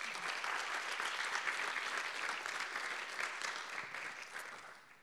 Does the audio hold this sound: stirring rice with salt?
no